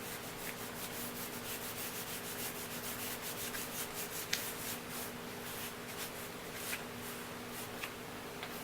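A hand rubbing and smoothing a decal outward from its center, a steady soft dry swishing friction that continues without break, close up, with faint light taps mixed in.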